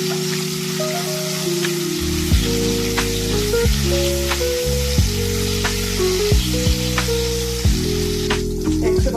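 Salted eggs fry in a pan for egg pulusu, giving a continuous crackling sizzle. The sizzle runs under steady background music throughout.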